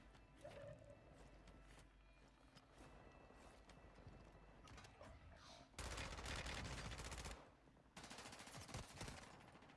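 Rapid bursts of automatic gunfire from the Warzone battle royale game, an extended loud volley followed by another burst after a short break, over quieter in-game ambience and footsteps.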